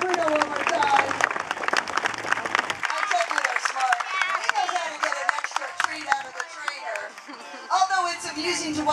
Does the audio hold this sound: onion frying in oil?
no